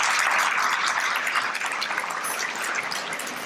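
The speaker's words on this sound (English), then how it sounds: "Let's give them a round of applause" Luncheon audience at a school leadership event applauding their sponsor, Learning.com: a dense, steady wash of clapping that fills the room and holds at an even level, easing slightly near the end.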